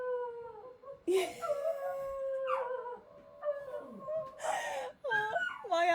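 Several pet dogs howling together like a wolf pack, long rising and falling wails that overlap and break off, then resume loudly near the end, with no speech.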